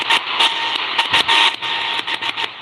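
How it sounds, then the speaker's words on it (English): Intermittent data-like pulses keyed on and off over shortwave radio, picked up on a 100-foot longwire antenna, a steady hiss with bursts starting and stopping irregularly for a few seconds, fairly loud and with no talking. "Sounds like Morse code"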